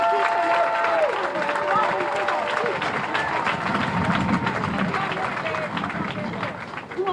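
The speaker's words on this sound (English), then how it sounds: "please give a warm round of applause for Milan" Rally crowd at a defund-police protest in New Orleans applauds a trans march founder, steady clapping and cheering from many people nearby, with scattered voices in the mix.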